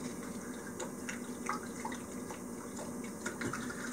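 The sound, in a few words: pouring vodka into bowl of horseradish puree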